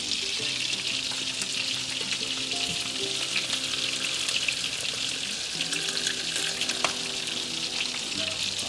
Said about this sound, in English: Pour that grease on it